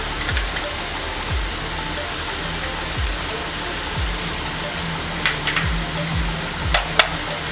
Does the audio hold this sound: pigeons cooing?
no